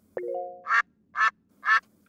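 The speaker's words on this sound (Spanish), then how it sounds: "Yo también escucho graznidos de pato y agua" A brief electronic tone, then three loud, evenly spaced duck quacks close by, each short and nasal, with quiet pauses between them.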